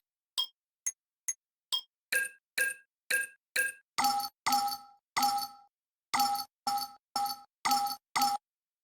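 A series of bright glassy tones from a synth made from a glass bowl, like struck glass bowls, rings out one after another in a steady rhythm, each with a short reverberant tail.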